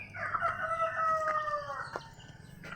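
Backyard chickens cluck as a rooster crows loudly and close by, the long strained call rising and trailing off, with softer clucks and farmyard noise around it.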